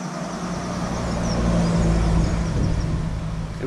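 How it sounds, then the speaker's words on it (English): Road traffic passing near a fishing spot at Thorpe Green in Norwich, a steady broadband roar that swells as a vehicle goes by and then eases off, with no voices. "Sorry about the noise. Fair bit of traffic here."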